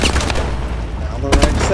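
Gunfire from a moderate-recoil gun in Call of Duty: Advanced Warfare comes as a rapid burst of loud, close shots, fading briefly before a second sharp volley at the end.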